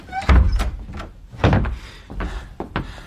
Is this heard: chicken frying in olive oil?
no